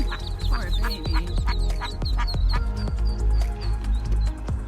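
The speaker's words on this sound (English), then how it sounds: "A very stressed out mommy duck watches these firefighters rescue her chicks, her ducklings, from a sewer drain." A mother duck quacks repeatedly near a sewer drain as firefighters rescue her ducklings, a steady run of sharp, nasal quacks over a low rumbling background.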